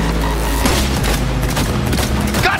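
Continuous rapid gunfire in Cyberpunk 2077, dense crackling bursts layered over a loud low rumble, filling the whole short stretch without pause.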